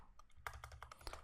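Quick computer keyboard typing while entering a line of Python code, a run of about ten sharp, uneven keystrokes, clear and close with a faint hum beneath.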